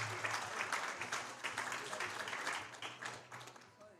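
Moderate audience clapping at a state powerlifting championship in New York, a steady patter of applause that carries on throughout with crowd noise underneath.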